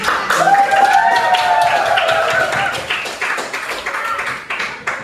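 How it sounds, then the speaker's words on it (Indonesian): Students in a classroom at a Jakarta vocational school clap in a burst of scattered, overlapping hand claps, fairly loud and close, gradually thinning out over a few seconds while a voice carries along underneath. "Tepuk tangan."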